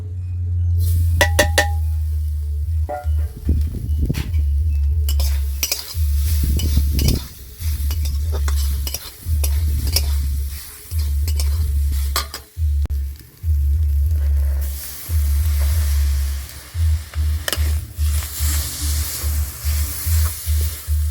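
A coconut and jaggery filling is stirred in a pan, with a steady low scraping and sizzling broken by short pauses and a few sharp clinks of utensil on metal.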